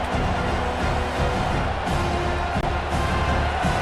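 Stadium crowd noise in the College Football 26 video game, a dense, continuous roar of many fans that stays loud throughout.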